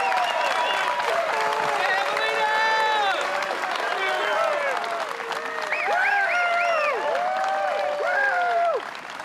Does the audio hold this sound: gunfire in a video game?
no